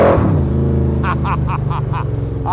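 Engine of a 1965 Shelby Cobra Superformance revving hard as it pulls up through the gears on a road in Plymouth, Michigan, a loud steady roar with rising pitch and brief shift breaks, heard close from inside the car.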